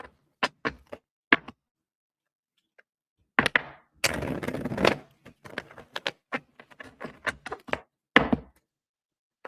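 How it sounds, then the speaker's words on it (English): Tarot cards being shuffled by hand, a series of soft papery taps and flicks in irregular clusters, with one longer riffling burst in the middle, close and quiet. "I want to get a good shuffle."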